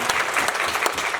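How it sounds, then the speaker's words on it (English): Congregation at a church anniversary service claps for Pastor Yao, a brief, dense burst of many hands applauding close and steady. "I would just like to give him a round of applause for that"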